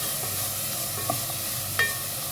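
Garlic and ginger sautéed in a pan for a fish curry give a soft, steady sizzle with a couple of light utensil taps against the pan, close and without speech.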